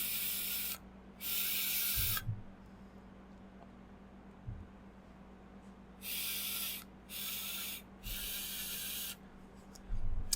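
Hissing, airy draws pulled through an Edge Mods Type-R Squonk RDA with the airflow wide open, five bursts of breathy rushing noise, two early and three later, each lasting about a second over a low background hum.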